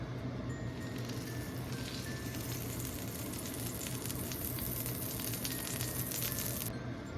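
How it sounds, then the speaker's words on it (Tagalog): Cooking oil hitting a hot pan for chicken igado, a loud, continuous, close sizzle that holds steady throughout. "Ngayon mainit na siya, ilagay natin yung ating mantika."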